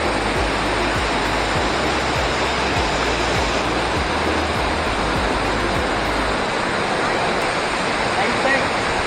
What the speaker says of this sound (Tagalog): HINIPAAN Falls.